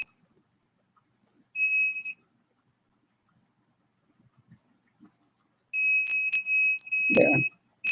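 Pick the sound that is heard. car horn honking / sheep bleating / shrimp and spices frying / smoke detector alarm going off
smoke detector alarm going off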